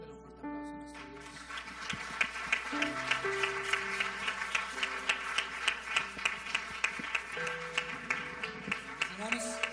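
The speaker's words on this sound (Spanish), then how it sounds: "Dale un fuerte aplauso a nuestro Dios." A church congregation claps in a steady, rhythmic beat over music and singing, the claps sounding as regular sharp pulses throughout.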